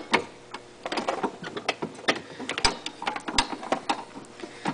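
A wrench works the brake cable adjuster on an Arctic Cat snowmobile, giving a steady run of small dry metallic clicks and ticks, close up, with no talking.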